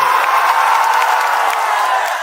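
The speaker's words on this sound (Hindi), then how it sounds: "एक जोरदार हल्ला से ताली बजाइए" A political rally crowd in Patna claps and cheers loudly, a dense continuous roar of applause and shouts close up, with no gaps.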